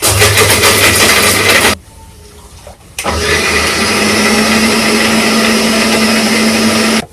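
A mixer grinder whirs loudly as it grinds coconut chutney with curry leaves, a steady high-pitched motor drone that stops briefly, then starts again and keeps running to the end.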